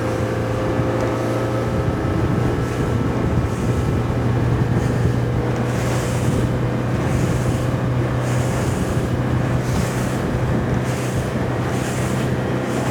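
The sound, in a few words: Haines Signature 543SF boat planing over choppy water and wakes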